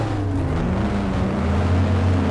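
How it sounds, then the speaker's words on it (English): Formula One engines in the F1 Challenge racing game roar together at a wet race start at Indianapolis, a loud, steady droning rumble with rising pitch lines as cars accelerate, filling the whole moment without talk. "You hear the roar of the engines as the flag drops"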